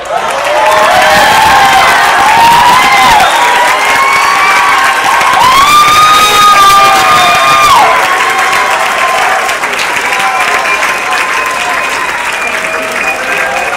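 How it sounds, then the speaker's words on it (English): A large audience applauds and cheers loudly at a May 2015 rally, sustained clapping with shouts and whistles filling the whole stretch without pause. "Big round of applause."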